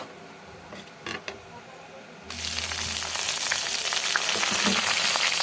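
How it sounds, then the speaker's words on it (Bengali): Bay leaf, cumin and garam masala hit hot oil halfway through. A few quiet knocks come first, then a sudden loud sizzle that holds steady and close, with faint crackles. "একটু ফোড়ন দিচ্ছি তেজপাতা, সাদা জিরা, একটু গরম মশলা ফোড়ন দিলাম"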